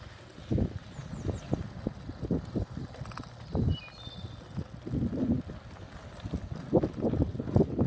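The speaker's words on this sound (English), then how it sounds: "Any noise you hear is simply coming from its tires." Knobby tires of a Luna Cycle electric fat bike, ridden on pedal assist along a woodland trail, give a close, uneven rumble with repeated soft thumps and crunches, under light wind buffeting on the microphone.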